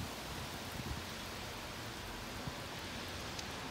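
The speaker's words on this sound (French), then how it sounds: "Mais il pleut très fort. Il pleut vraiment fort." Dense, steady heavy rain pours down in Lille in a constant broadband hiss with no pauses and no voices.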